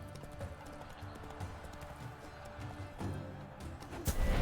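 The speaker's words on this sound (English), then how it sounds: "Hoofs pounds the ground. No legion of drummers could make such a sound." Horse hooves pound the ground in The Witcher 3, a steady clip-clop gallop heard fairly faintly beneath game music and ambience, growing louder near the end.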